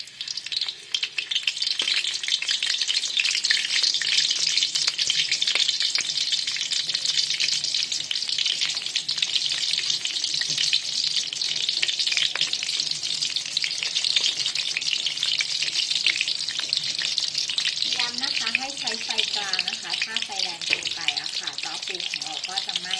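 Crab rolls (jor pu) are deep-frying in hot oil over medium heat, giving a steady, dense sizzle and crackle that lasts throughout. A brief bubbling swirl comes near the end.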